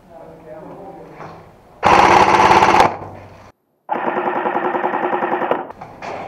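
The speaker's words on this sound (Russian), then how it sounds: "Да, о, по нему стреляют." Airsoft guns fire in rapid automatic bursts during an airsoft game in Latvia: one loud burst, then a longer sustained stream of shots, with voices talking around them.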